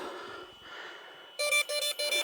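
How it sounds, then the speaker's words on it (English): A crashed drone, an Avata 2 resting in mud on a mountain meadow, emits a rapid series of four loud electronic beeps that follow a stretch of soft outdoor background noise. "I gotta turn that infernal beeping off now."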